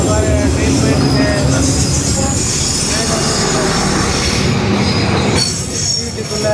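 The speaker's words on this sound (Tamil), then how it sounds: "சீட்டுக்குள்ளே எப்படி வருது பாருங்கள் ட்ரெயின்." A train in Vietnam rolls past cafe seating at close range, steel wheels squealing loudly over a steady rumble and rattle of cars, continuous throughout.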